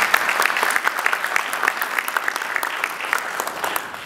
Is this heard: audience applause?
yes